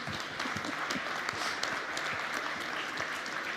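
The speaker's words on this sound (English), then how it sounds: "A round of applause for you." Modest audience applause following a startup pitch at a pitch battle final, a fairly faint, even patter of claps with a few sharper individual hits.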